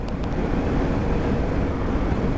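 Strong east wind roars steadily and loudly throughout, a dense low rumble of gusting air buffeting close by with no pauses.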